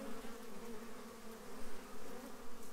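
Steady, close buzzing of bees at a hive entrance fitted with a pollen trap, a dense droning hum with slight wavering in loudness, no talking.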